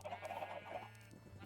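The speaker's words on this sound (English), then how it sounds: "Man, these chickens are annoying." Minecraft chickens clucking in a short burst of game audio, a few quick squawky clucks up close with a steady background hum beneath.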